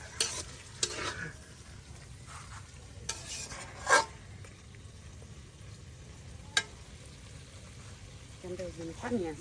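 Meat sautéed with spices in a pan for a traditional village-style beef and chicken dish, heard as a continuous sizzle cut by repeated scraping stir strokes, with a brief voice toward the end.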